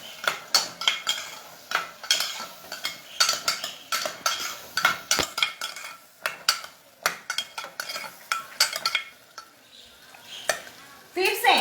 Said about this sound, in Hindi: अब इसे हम अच्छे से मिक्स कर लेंगे।